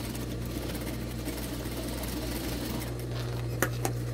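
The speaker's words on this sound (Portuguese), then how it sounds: "Agora eu vou passar uma costura exatamente em cima do meu risco" A sewing machine runs a seam exactly along a drawn line while making a small princess-style bootie, giving a steady, close, continuous whir that ends with a couple of brief clicks.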